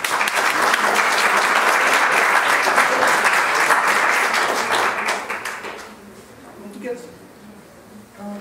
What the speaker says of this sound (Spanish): a quien damos la bienvenida con un fuerte aplauso.